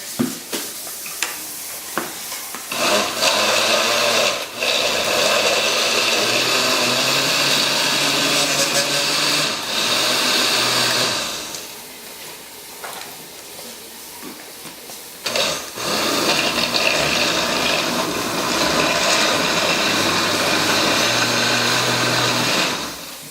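A kitchen blender whirs loudly as it blends a green smoothie of spinach and other leafy greens, cucumber and zucchini with water, running in long steady bursts with a brief pause partway through.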